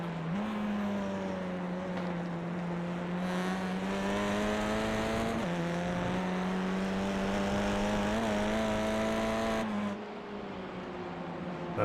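Tin top race cars racing on a circuit: a steady, droning engine note held near and loud for several seconds, with brief shifts in pitch as the cars lift and accelerate, then fading as they move away.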